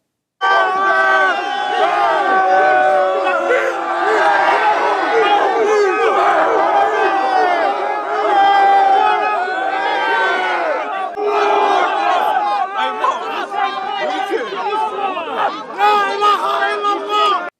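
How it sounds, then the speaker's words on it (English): A large crowd yells continuously at Speakers' Corner in London, a dense, loud roar of many overlapping voices shouting and chanting without pause for the whole stretch. "Towards evening, a large crowd formed and began yelling."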